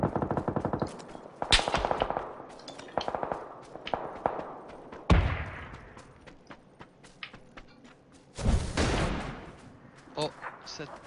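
Rapid automatic gunfire in a PUBG match, with dense bursts of shots and a few heavier single blasts over about eleven seconds, loud and close, while players talk over the action.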